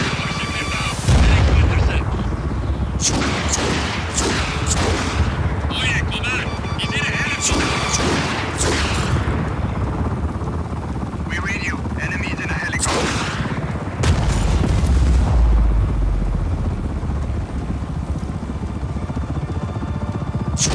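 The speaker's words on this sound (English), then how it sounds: "Weak ass missiles." Missile explosions and gunfire from the video game Just Cause 4 sound continuously as heavy booms and bursts of rapid shots, loud and dense throughout, with a voice briefly over it.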